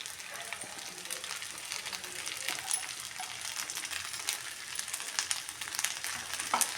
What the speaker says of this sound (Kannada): ಇವಾಗ ರೈಸ್ ಹಾಕೊತಾ ಇದ್ದೀನಿ